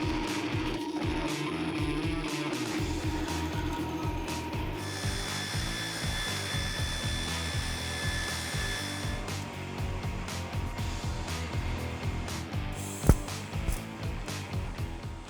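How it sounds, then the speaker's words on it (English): Bandsaw cutting out a metal piece for a truck's driver's side box, a steady loud grinding drone with a rasping tone that shifts partway through. "I'm actually just gonna cut it out into the bandsaw"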